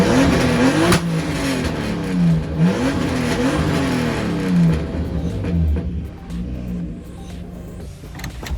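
A BMW E36 with an M52 inline-six, freshly fitted with an ATI damper and crank bolt after an ignition breakup fix, revs up and down in repeated rising and falling sweeps, loud and close, without talk.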